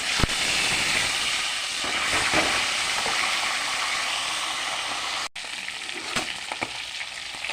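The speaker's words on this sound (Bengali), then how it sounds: "মাথাটা লাল লাল করে ভেজে নেবে" A fish head fries in hot oil, a loud, steady sizzle and hiss that continues throughout, with a few sharp spatters and small knocks popping out above it.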